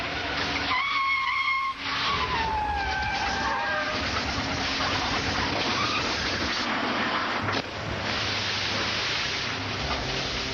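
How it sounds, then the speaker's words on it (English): Vehicles braking hard and skidding on a rain-soaked road as traffic stops suddenly for a collision during a downpour: loud tire squeals rise and fall over heavy rain and road noise, continuous and close. "A collision up ahead forced the traffic to stop suddenly on the wet road."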